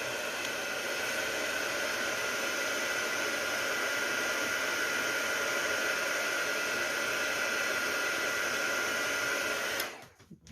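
A heat tool blows a steady, loud hot-air roar while melting sparkly embossing powder on a Christmas tag, holding constant for about ten seconds before cutting off abruptly at the end.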